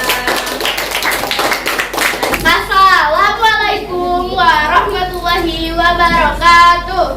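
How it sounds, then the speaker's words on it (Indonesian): Students in a classroom clap for a presenting group, a short burst of hand claps followed by children's voices chanting along in a rhythmic pattern, fairly close and loud. "tepuk tangan untuk kelompok Aska"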